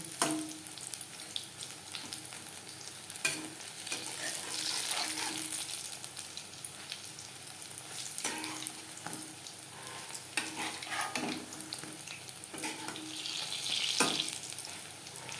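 Hot oil sizzles and crackles steadily as onion and cabbage pakoras fry over medium flame, with occasional sharp clicks and taps of a utensil against the pan.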